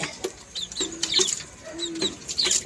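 Chickens cluck in short, scattered bursts at close range, with a few higher calls mixed in and no talking.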